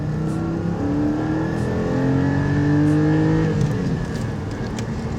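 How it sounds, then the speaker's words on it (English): A Porsche Cayman GT4 engine drones from inside the cabin, its pitch climbing and falling through gear changes as the car accelerates, loud and steady with no talking. "I want to hear that engine"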